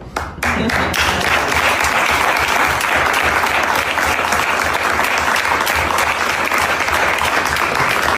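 A large crowd breaks into sustained applause, dense and loud, building almost instantly and holding steady for several seconds.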